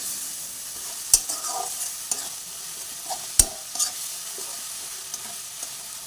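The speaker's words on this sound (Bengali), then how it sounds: "মশলাটাকে ভালো করে জল দিয়ে কষিয়ে নেব মিনিট 2-3 সময় নিয়ে" Spice masala cooking down with a little water in a pan, a low simmering sizzle broken by a few sharp clinks and scrapes of a spoon against the pan.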